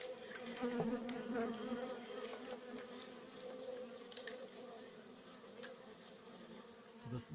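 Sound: honeybees and drones buzzing in flight

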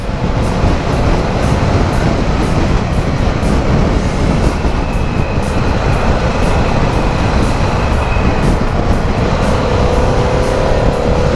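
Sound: Harley-Davidson Pan America motorcycle riding

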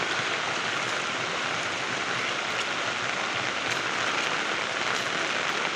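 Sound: heavy rain and water flowing over the road

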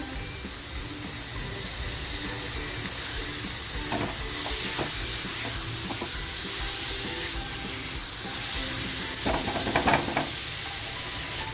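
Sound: tomatoes added to sizzling masala in a frying pan, methi prawns

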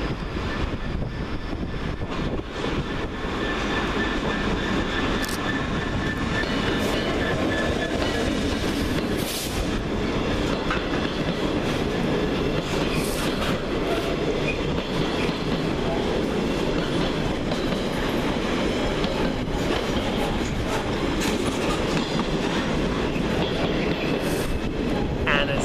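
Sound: Class 66 diesel locomotive hauling freight train through station

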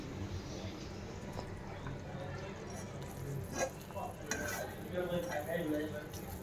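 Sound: sabudana cooking in a pan on low flame

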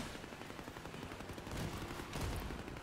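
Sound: video game turrets shooting an enemy

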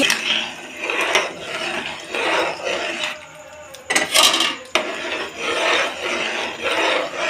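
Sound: mixing brinjal curry in a pan

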